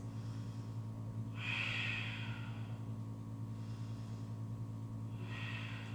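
Two soft, drawn-out breaths during a yoga exercise, spaced a few seconds apart and faint over quiet room hum.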